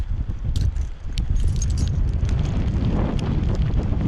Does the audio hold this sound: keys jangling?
yes